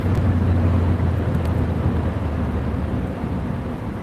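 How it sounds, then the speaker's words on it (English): Water rushes steadily after a thunderstorm in a continuous loud wash of noise that fills the whole stretch, with a low rumble underneath and no voices. "Look at the water rushing."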